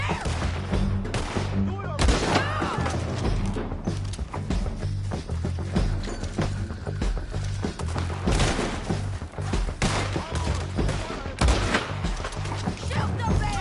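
Gunfire in the video game Red Dead Redemption 2, dense rapid bursts of loud close shots layered over rumbling background action, with voices talking throughout.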